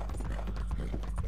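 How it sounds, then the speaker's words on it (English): Rhythmic hoof clip-clops of a horse at a steady walk in the video game Red Dead Redemption 2, soft and close, repeating evenly over a faint low hum. "Yeah, that's a good name for a horse. Come on, Daniel."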